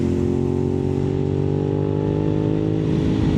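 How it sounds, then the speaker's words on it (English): A 4th-generation Suzuki SV650 motorcycle's M4 aftermarket exhaust rumbles loudly and close by, its pitch climbing slightly as the engine revs. "that M4 exhaust sounds absolutely magnifico"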